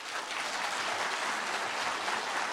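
Steady, dense applause from an audience at the inauguration ceremony for POSTECH's 9th president, filling the hall evenly throughout with no one speaking over it.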